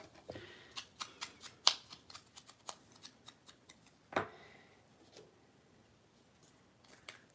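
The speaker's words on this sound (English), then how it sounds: "Cut the corners." Scissors snip a series of quick, sharp cuts through cardstock paper corners on a craft page, close and clear, with a few louder clips standing out among the small, irregular snips.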